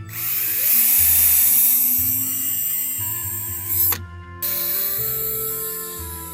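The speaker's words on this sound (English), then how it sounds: "We're going to go up to the 1/8 drill bit because that's a bit longer" A power drill whirs loudly as it drills through a pumpkin, shifting pitch as it bites in, cuts out briefly, then spins up again.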